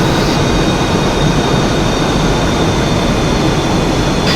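F/A-18E Super Hornet jet engine in a flight simulator, a loud steady roar with a faint high whine, unbroken throughout.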